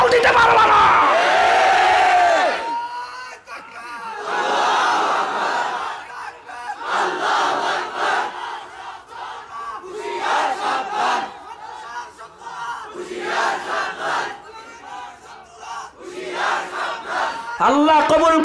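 A large religious crowd shouts the takbir, Allahu Akbar, in powerful unison bursts. Each roaring chant is separated by short pauses in a repeating call-and-response rhythm, loud and close.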